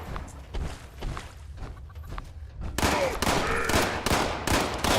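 Bursts of gunfire from the video game Fallout 76 crack out in rapid, uneven volleys. Scattered shots come first, then denser, louder fire takes over partway through, with no talk.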